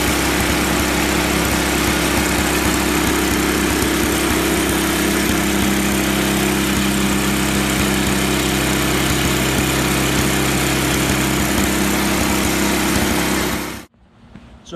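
Craftsman Tecumseh Snow King dual-stage Trac-Drive snowblower engine running loudly and steadily up close, a continuous rough small-engine drone that cuts off abruptly near the end.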